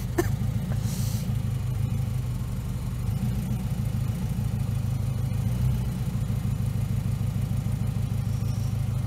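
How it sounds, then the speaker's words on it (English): A Honda Civic engine idles roughly with a steady, uneven low rumble that runs unbroken and fairly loud throughout, with no voices over it. "It's idling a little rough. You hear that?"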